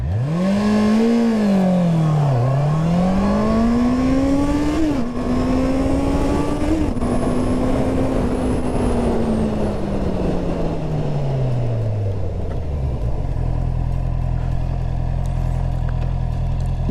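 A Honda CB650R motorcycle pulls away from a standstill, its engine revving hard through several rising gear shifts, then the pitch falls steadily as the bike brakes and settles back to idle, loud and close.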